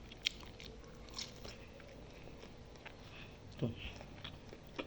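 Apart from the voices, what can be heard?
chewing a chicken leg eaten by hand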